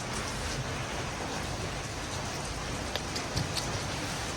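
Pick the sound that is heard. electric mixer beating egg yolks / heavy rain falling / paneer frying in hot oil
heavy rain falling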